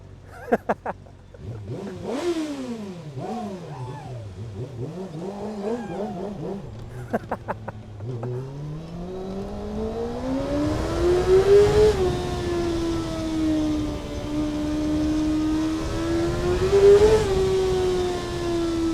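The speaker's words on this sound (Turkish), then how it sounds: "Şu an bile yani o kadar çok ses çıkartıyor ki motosiklet." A powerful Kawasaki ZX-6R 600cc sport motorcycle engine revs up with rising and falling pitch, loud and close, sustained whine climbing over several seconds.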